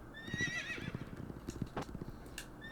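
A horse in the Horse Riding Classic video game whinnies once near the start, a loud quavering neigh over rhythmic galloping hoofbeats that continue to the end.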